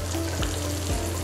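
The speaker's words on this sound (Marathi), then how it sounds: "आणि ही छान तडतडलेली फोडणी" Ghee and cumin tempering sizzles in a pan as chilli goes in, a steady close frying hiss with a couple of brief bursts of sharper crackle, and no voices.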